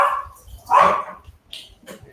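A single dog barks at close range indoors, two or three sharp barks with short gaps between them, loud and alone without talk.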